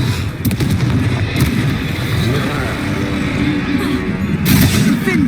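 A Confringo fire spell explodes in Hogwarts Legacy during combat, a few sharp blasts set against dense, noisy battle sounds and game music.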